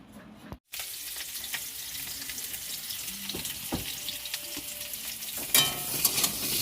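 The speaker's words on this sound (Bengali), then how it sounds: "আলু ভাজা হচ্ছে" Potatoes fry in a pan in a home kitchen with a loud, continuous sizzle, broken by occasional clinks and scrapes of stirring, and no one talks.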